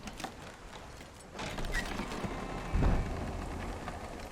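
Rain patters steadily with scattered drops and splashes in the video game Hellblade: Senua's Sacrifice, and a low rumble swells briefly midway, with no voices.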